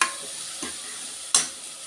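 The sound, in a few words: sambar masala being stirred and fried in a pan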